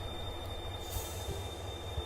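A stuck train in the video game The Darkside Detective gives a continuous low rail rumble with faint metallic wheel squeal and a few soft knocks, steady and moderately close, with no speech.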